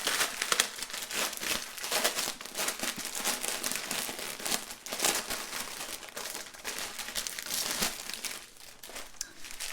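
Plastic packaging of a diamond art color kit being opened, close crinkling and crumpling that runs continuously and fairly quietly with no voices.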